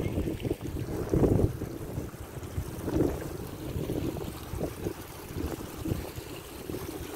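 Gusty wind outdoors beside St. Catherine's Lock on a river, buffeting the microphone in uneven bursts and swells over a low background rush, with no speech.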